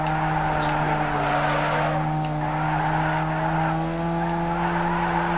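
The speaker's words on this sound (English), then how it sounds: "Bear with me while I get used to the drifting again." Tires squeal in a long, continuous skid during a drift in Need for Speed Underground 2, layered over a steady humming engine drone, close and sustained.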